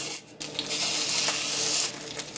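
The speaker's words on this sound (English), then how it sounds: "I have my pot on with just a little bit of oil in it. And I'm going to go ahead and add my tomato paste to it." Tomato paste hits a little oil in a hot pot and fries in a loud, bright, continuous sizzle, briefly broken near the start, with no one talking over it.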